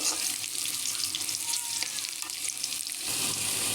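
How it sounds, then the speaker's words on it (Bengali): Onion and three or four garlic cloves fry in oil in a continuous, even sizzle with faint stirring scrapes, heard up close and alone. "এখানে পেঁয়াজ আর এই 3-4 কোয়া রসুন আমি তেল দিয়ে ভেজে নিচ্ছি।"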